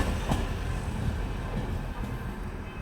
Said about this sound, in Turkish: Evet şu an öteki tren de geliyor.